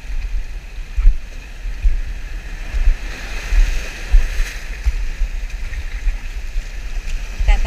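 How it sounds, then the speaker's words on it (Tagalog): Large sea waves wash and slap around a small fishing boat, with steady rushing water, rhythmic thumps against the hull and wind noise filling the scene. "Malaki talaga yung alon dito."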